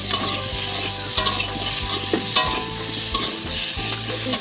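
Jackfruit with potato and meat stirred and fried in a pan: a steady sizzle with a spoon scraping and knocking at irregular intervals, close and fairly loud, with no talking.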